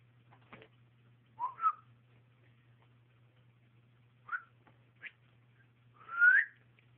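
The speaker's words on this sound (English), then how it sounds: "Crazy birds." Birds in Waco whistling and calling, scattered short chirps and whistles with longer gaps between, fairly faint over a low steady hum.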